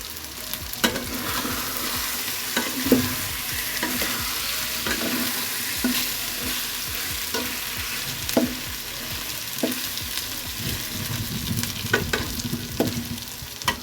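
Curry gravy is stir-fried down until dry and dark in a pan, a close, constant sizzle punctuated by regular spatula scrapes and knocks against the metal, without any voices.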